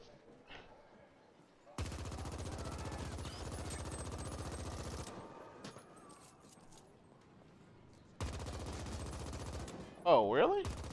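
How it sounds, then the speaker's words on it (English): Bursts of submachine gun fire in The Ascent, a sci-fi shooter video game, come in two sustained rapid-fire stretches with a quieter gap between them, followed by a short electronic whooshing effect near the end. "I'm using a submachine gun and a pistol right now"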